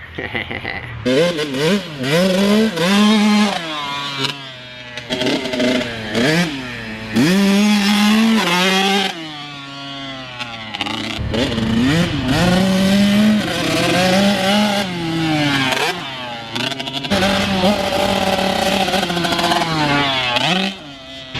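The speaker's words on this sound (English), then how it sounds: "So I know the bike sounds a little off." A Kawasaki KX65 motocross bike running slightly rough, its engine revving loudly and continuously with rising and falling pitch through repeated gear changes, close and dominant throughout.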